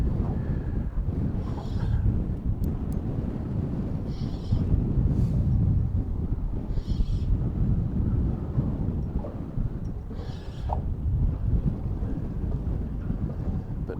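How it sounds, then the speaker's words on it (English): Wind buffets a small Osprey boat at sea near a mussel farm, a continuous low roar of gusts across the microphone with periodic swells and faint higher rattles. "Bit of wind to contend to."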